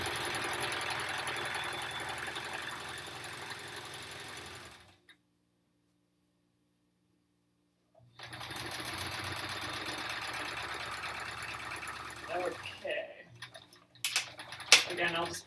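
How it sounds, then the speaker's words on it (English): Sewing machine stitching paper-pieced quilt block seams: steady, fast mechanical whirring for a few seconds, a silent pause, then another run of stitching ending in a few clicks, a voice briefly heard near the end. "I am gonna just do a little back stitch here again."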